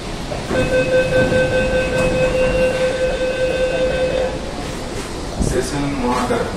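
Kolkata's underwater metro train runs between Esplanade and Howrah Maidan, heard as a steady, loud tonal whine held for about four seconds over a constant rumble. A short clatter follows near the end.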